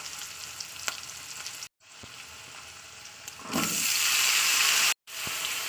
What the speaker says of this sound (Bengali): এবার আমি দিয়ে দেবো আলু চুড়োটাকে